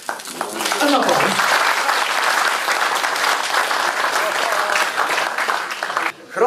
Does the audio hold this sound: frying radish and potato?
no